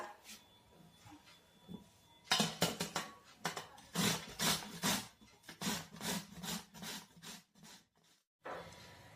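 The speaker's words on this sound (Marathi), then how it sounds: "आता आपण हे गाजर किसणीने किसून" Carrots rubbed on a hand grater for carrot halwa: a quiet start, then a run of rhythmic rasping strokes, steady back-and-forth scrapes with short gaps, pausing briefly before one last stroke.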